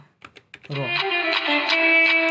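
A few quick, close clicks of a computer keyboard are typed at a spreadsheet cell, then a sustained voice continues over the sound.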